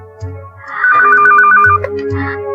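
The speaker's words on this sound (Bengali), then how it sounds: "সে কখন থেকে ফোন পাচ্ছে।" A telephone rings in a steady electronic ringtone pattern, loud and close, sounding continuously with no one speaking over it.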